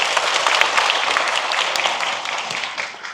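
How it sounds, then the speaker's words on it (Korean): Audience applause greeting a National Assembly member at a residents' briefing on a housing redevelopment plan: sustained, dense clapping from a crowd indoors, steady and fairly loud, tapering slightly toward the end. "큰 박수로 맞아주시기 바랍니다."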